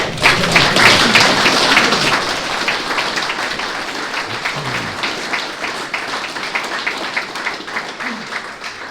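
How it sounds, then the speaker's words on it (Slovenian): Audience applause at the end of a public lecture on war and peace in Europe, a dense steady round of many hands clapping that starts strong and gradually thins and tapers over several seconds. "Ja, najprej na aplavz."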